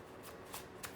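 Cards from an oracle deck are shuffled and cut, giving three brief, crisp riffling bursts close by over a faint hiss, with no voices.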